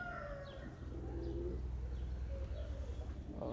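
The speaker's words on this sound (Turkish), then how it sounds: "sağlıklı bir kuş bakın zangır zangır ötüyor." Soft, low pigeon coos repeat over a quiet background, with a few faint chirps from other birds.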